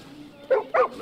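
A dog in the video game Far Cry New Dawn gives two quick, close barks in succession over a quiet background.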